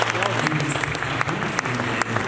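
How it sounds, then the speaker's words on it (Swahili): A church congregation applauds at a wedding, a dense wash of clapping hands from many people that continues steadily at a moderate level with some voices mixed in. "Congratulations. Situpigie makofi."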